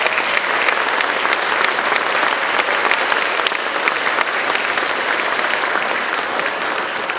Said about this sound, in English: Let's give them a big round of applause for that dedication